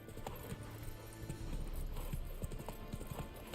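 Roach the horse gallops in The Witcher 3, a close, rhythmic clip-clop of hooves running steadily throughout with no other sound on top.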